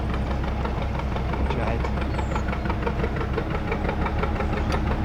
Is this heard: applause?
no